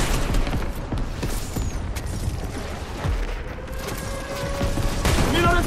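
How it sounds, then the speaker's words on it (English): Airstrike explosions and gunfire in a ranked OG Fortnite match, a dense stretch of booming blasts and rapid shots going on throughout, loud and close, with voices talking over parts of it. "Airstrike."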